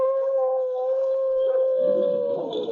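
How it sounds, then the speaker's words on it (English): A lone gray wolf gives a long, eerie victory howl over a fallen rival, a sustained wavering tone that holds steady, then breaks into rougher, noisier yelps near the end, close and loud with no talk. "the gray wolf stood over his vanquished foe and gave vent to an eerie howl of victory"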